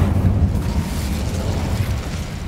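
Incendio fire spell cast in the wizarding game Hogwarts Legacy, a loud, steady roaring rush of flame that sustains without a break for a couple of seconds.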